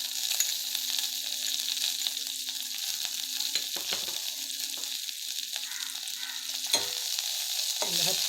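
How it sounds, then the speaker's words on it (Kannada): Neem flowers sizzle and fry in hot ghee over a medium flame, with a steady crackling hiss and occasional stirring scrapes of a spoon in the pan, close and continuous with no talking. "ಒಂದು 10 ಸೆಕೆಂಡ್ ಇದನ್ನು ತುಪ್ಪದಲ್ಲಿ ಚೆನ್ನಾಗಿ ಬಾಡಿಸ್ಕೊಳ್ಳಿ."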